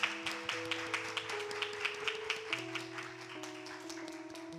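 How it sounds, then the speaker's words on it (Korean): A church congregation at a Sunday chapel service claps in an even rhythm to welcome visitors, the claps moderately loud over sustained keyboard chords. "큰 박수로 모시겠습니다"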